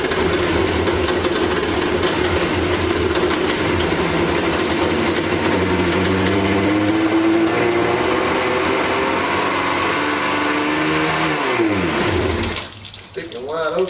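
A 1995 Yamaha WaveRunner jet ski engine runs steadily with its throttle stuck wide open, a loud continuous mid-pitched drone that wavers in pitch before dropping away near the end.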